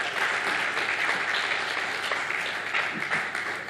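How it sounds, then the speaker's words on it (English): Sustained applause from a conference audience, a dense steady wash of many hands clapping indoors throughout, fairly loud and even with no pauses. "you can give the applause louder."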